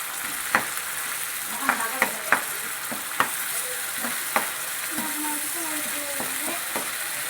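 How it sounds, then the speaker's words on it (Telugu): Onions and ginger paste frying in a pan for a mutton curry, a steady loud sizzle with scattered sharp clicks of a spoon scraping and stirring throughout, no voices over it. "ఎర్రగడ్డని బాగా బ్రౌన్ కలర్ వచ్చేదాకా ఎంగించుకోవాలి తర్వాత అల్లం పేస్ట్ని బాగా వేసుకోవాలి"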